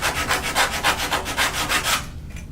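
Rough-grit sandpaper rubbed back and forth on a wooden flag hanger, about seven close, rhythmic scratchy strokes that stop near the end.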